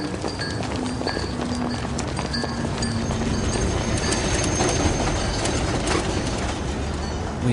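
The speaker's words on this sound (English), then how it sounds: "we caught a tram all the way into the city" A tram rolls steadily toward the city centre, with dense, continuous rail rumble, clattering wheel beats and faint squealing tones carrying throughout at a constant, fairly loud level.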